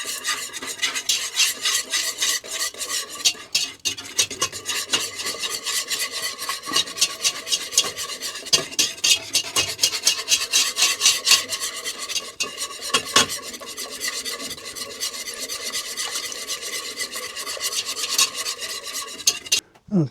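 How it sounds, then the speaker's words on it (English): A whisk scrapes and rasps rapidly against a pot as caramel syrup is stirred into homemade butterscotch pudding, a steady, close, continuous scratching rhythm with a few sharper clinks and no talking. "You want to whisk it in here as you mix."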